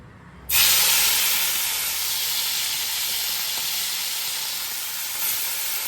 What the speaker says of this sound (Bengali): ভালো করে মাখিয়ে ঝুঁকিয়ে লাল লাল করে ভেজে তুলব